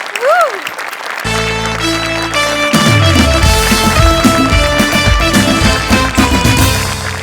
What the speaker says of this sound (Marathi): तुझ्यासाठी स्पेशल टाळ्या.